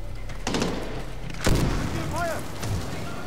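A grenade blast in the shooter game Medal of Honor Warfighter: two heavy booming detonations roughly a second apart, the second the louder and closer, trailing into rumbling battle noise with brief chirps.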